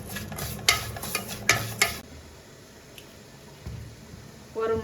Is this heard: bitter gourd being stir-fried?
yes